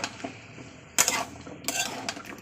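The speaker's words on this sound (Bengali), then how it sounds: "এই কষানো ঝোলের মধ্যে আমি দিয়ে দেবো পেঁপে আলুটাকে, দিয়ে ভালো করে কষিয়ে নেব" A utensil scrapes and clinks against a pan while fish curry with papaya and potato is stirred, giving two or three sharp, close scrapes amid quiet kitchen sounds.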